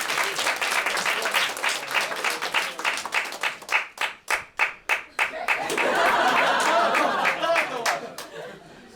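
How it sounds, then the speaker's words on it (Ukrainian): A stand-up comedy audience in Lviv applauds: loud, dense clapping, then a stretch of slower, rhythmic claps, then a full wave of applause mixed with a few chuckles. "аплодуйте, хто тако бачив мої стендапи раніше"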